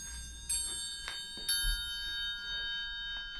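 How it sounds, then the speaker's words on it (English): A triangle struck a few times with bright metallic rings, each leaving a clear sustained shimmer that fades slowly, with no voices. "A triangle."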